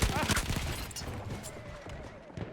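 Gunshots in first-person shooter gameplay, a quick cluster of loud shots at the start that fades into quieter firing, with someone talking over the sound throughout.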